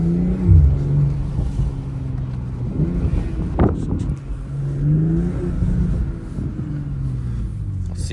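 A purple BMW M240 on its stock exhaust idles and revs, giving a low, loud engine rumble that rises and falls with a few throttle blips, heard close, with wind buffeting the microphone and brief talk in the background.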